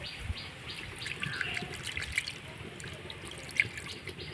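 Freshly made chhena curds from cow's milk are washed by hand under water, with a soft continuous trickle and faint splashing, quiet and close, with one brief brighter splash near the end.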